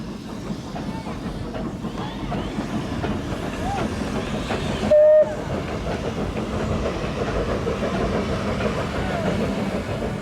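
A train on the Patagonia Express line in Argentina rolls past with a steady rumble and rhythmic clatter, loud and continuous, with one short whistle-like tone partway through.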